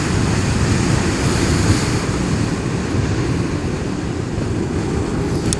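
Steady, loud wind rush buffets the rider on a 2018 Zero S 14.4 11kW electric motorcycle at speed, a continuous broadband roar with no engine note and no talking.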